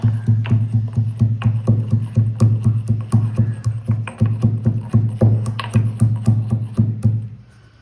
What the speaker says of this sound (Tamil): மிளகு ஜீரகம் இடிச்சாச்சு